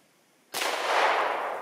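A 9mm Hornady 115-grain XTP round fired from a 5-inch-barrel Smith & Wesson pistol: one sharp, loud report that bursts in abruptly, then a long bright echo ringing and slowly fading as if outdoors.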